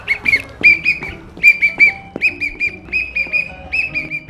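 A whistle blown repeatedly in short, sharp shrill blasts, loud and close, in an uneven rhythm during exercise in an Ethiopian sitcom scene, with no talking over it.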